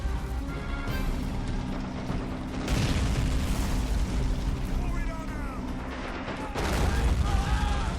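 In the Men of War Assault Squad 2 war game, an 88 mm gun fires, and two heavy booming blasts break through a rumbling battle din while a voice talks excitedly throughout.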